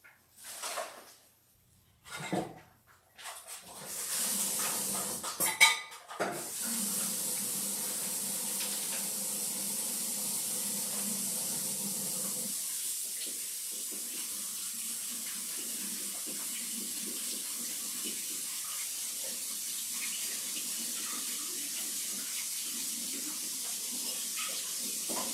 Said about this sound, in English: Rinse and drain.